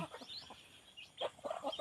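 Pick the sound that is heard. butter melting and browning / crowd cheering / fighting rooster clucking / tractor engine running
fighting rooster clucking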